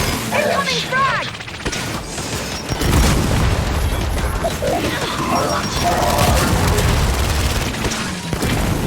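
A frag grenade explosion in the Gears 5 video game booms through dense combat noise, with heavy crashes and rumbling that continue under shouting voices.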